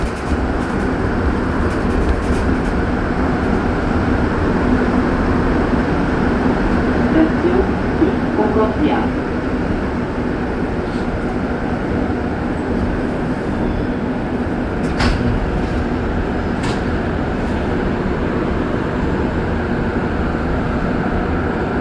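Last morning run of a Montreal STM Green Line metro train, a steady broadband rumble and roll throughout, fairly loud and continuous with brief clanks and a few sharper squeals mid-way, with voices faintly in the background.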